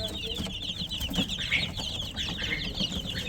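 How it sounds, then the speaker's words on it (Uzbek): Kuchinsky Yubileyny chicks, a Russian egg-laying breed, chirp and peep in a steady, busy chorus with scattered low clucks from nearby poultry. "o'sha mashhur Kuchinskiy yubileyni jo'jalari"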